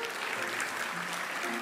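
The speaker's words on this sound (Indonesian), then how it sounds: "Kasih tepuk tangan buat Tuhan kita." A church congregation claps steadily and continuously, a dense, even wash of applause heard at moderate distance, with a faint voice underneath.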